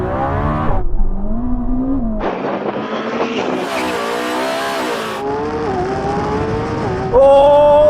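Lamborghini and Ferrari drag race launch, loud engines revving and upshifting in rising sweeps, with clear gear changes and a sustained roar that grows harsher at the end.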